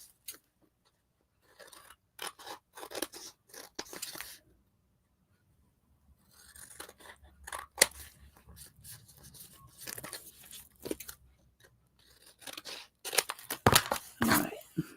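Scissors trim paper for a collage book in close, crisp snips and rustles that come in irregular bursts, with quiet gaps between the cuts.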